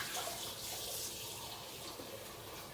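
Tap water runs steadily at a moderate distance as a Moccamaster coffee maker part is given a quick lukewarm rinse, forming a continuous broadband splash with no talking.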